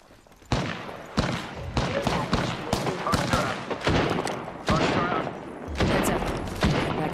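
Rapid, dense gunfire from Wraith's Wingman in an Apex Legends match: loud close shots and bursts pile up almost nonstop for several seconds, with brief gaps between volleys.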